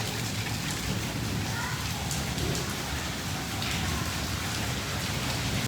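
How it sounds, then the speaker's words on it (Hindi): Heavy rain pours down during a stormy spell in a village, a dense, constant hiss of drops on surfaces with no break, close and loud. "यहाँ पे शुरू हो गई है बारिश"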